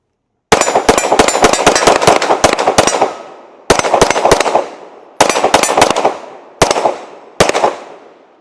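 Radian rifle fitted with a Ramjet, shooting Federal 124-grain ammunition in rapid bursts: a long fast string of sharp, loud, close shots, then several shorter clusters, each trailing into echo.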